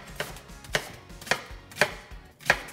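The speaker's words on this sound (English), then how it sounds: "I have a chef's knife here, so it makes it really quick to cut up the onions" A chef's knife chops through an onion on a cutting board in five evenly spaced, crisp strikes, close and clear with no talk over them.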